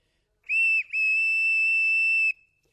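An old railway station master's small whistle gives a short shrill blast and then a longer sustained one, piercing and close, with no talk.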